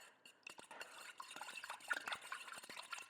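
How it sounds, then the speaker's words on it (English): Sweet and sour sauce ingredients being stirred together in a bowl, a soft, quick run of scraping and swishing strokes with light clinks of a utensil against the container, close and fairly quiet. "we're gonna quickly just stir this all together"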